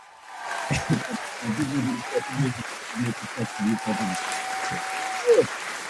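Studio applause on a breakfast television show runs as a soft, steady patter in the background while voices carry on over it.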